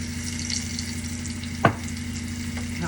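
Potatoes for au gratin frying in oil in a pan, a steady soft sizzle with one sharp clink near the middle and no voices.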